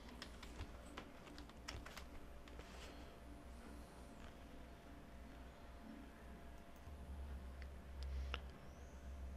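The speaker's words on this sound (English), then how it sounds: "I'm going to type in my sudo password" A sudo password being typed on a computer keyboard during an Ubuntu Desktop install on Ubuntu Server 12.04.1, a quiet run of quick, irregular key taps over low room hum, no one talking.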